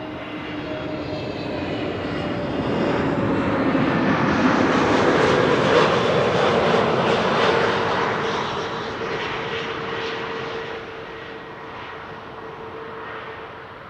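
An arriving KM Malta airliner passes over Amsterdam Schiphol Airport, its engine roar swelling from a distant rumble to a loud, broad whoosh with a whining tone, then slowly fading as it moves away.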